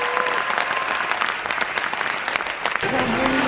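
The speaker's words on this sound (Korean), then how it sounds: "여기 오늘 참가하신 분들에게 박수를 다시 한번 부탁드리고 하겠습니다" An audience at a music competition claps steadily and densely throughout, a sustained wash of applause.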